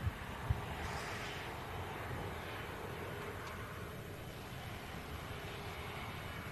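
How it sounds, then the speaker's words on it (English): A British Airways shuttle airliner touches down on a single-runway airport, heard as a faint, distant steady jet roar with wind rumble and a brief thump near the start. "British Airways shuttle service touching down on 23 right, single runway ops in use for today's show"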